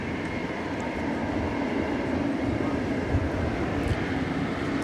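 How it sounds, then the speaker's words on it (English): An airliner on Flight 2116 from San Francisco lands at DFW Airport, a broad continuous roar from some distance that holds steady throughout, with no talking. "That was Flight 2116 coming in from San Francisco"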